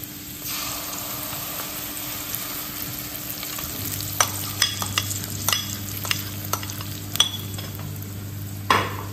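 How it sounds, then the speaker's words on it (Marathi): Soaked besan gram flour batter sizzles in a hot pan while a spoon stirs it, with sharp scraping and clinking strokes against the pan over a steady frying hiss and a low hum. "याला असं छान परतून घेऊया, घट्ट करूया याला."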